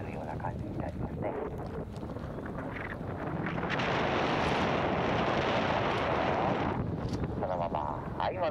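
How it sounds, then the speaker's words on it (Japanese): Wind at a paragliding site, blowing from the south-southeast with steady microphone buffeting that swells into a louder, sustained roar midway and then eases, while someone speaks over it. "南風がちょっと南東から吹いているので"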